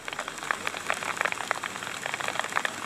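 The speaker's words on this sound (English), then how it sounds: "the rain is coming down even harder" Heavy rain pattering outdoors, dense irregular drops striking surfaces in a steady crackling hiss, fairly close and moderately quiet, with no voices.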